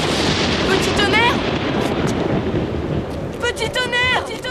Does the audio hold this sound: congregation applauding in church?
no